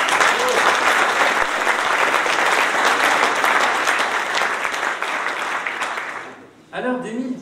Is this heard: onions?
no